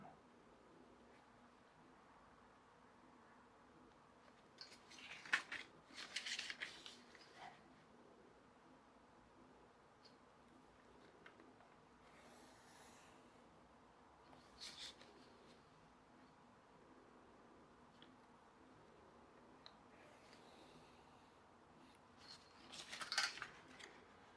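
Scissors snip paper while cutting out a paper glider, a few faint, brief bursts of cutting spaced apart in a quiet room with no talk.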